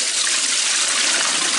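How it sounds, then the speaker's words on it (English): Rinse water pours steadily from salted cabbage into a strainer while making kimchi, a close, loud, even splashing gush with no break. "the cabbage, pour that into the strainer."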